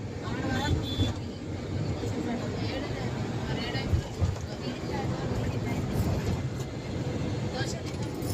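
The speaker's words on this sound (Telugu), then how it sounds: "ఢిల్లీలో అయితే ఫుల్ ట్రాఫిక్ ఉందండి" Heavy road traffic on a Delhi roadside makes a dense, steady rumble of passing vehicles with an occasional horn, close and continuous, while people talk over it.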